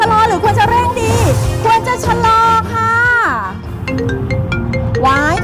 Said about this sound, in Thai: มีโทรศัพท์โทรเข้ามาพอดีเลยอะ่ะควรรับหรือเปล่าคะ